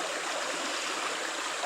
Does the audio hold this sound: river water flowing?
yes